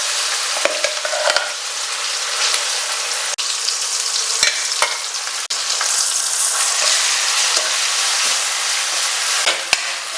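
Onion paste frying in hot oil with chillies and curry leaves for a fish curry, a loud continuous sizzle with scattered scraping clicks of a spoon stirring the pan, no voices.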